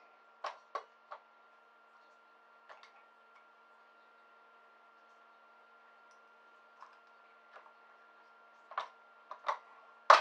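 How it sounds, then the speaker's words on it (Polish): Spent shotgun shell primers knocked out in a reloading press drop into a container, giving small scattered clicks and ticks in a quiet room, a few spaced apart then a closer cluster at the end. "Zużyte spłonki spadają do pojemnika."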